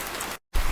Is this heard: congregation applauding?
no